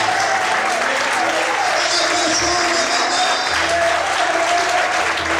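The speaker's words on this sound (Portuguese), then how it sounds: "Quem quer, bate palma e adora o Senhor nessa noite." A large church congregation claps steadily and loudly throughout, a dense wash of applause with a voice and low tones faintly beneath.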